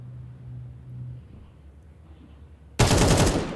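Gunfire in a Counter-Strike match, arriving as a sudden loud burst of shots near the end after a quiet low rumble.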